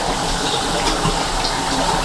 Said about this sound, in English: Let me rinse it off real quick.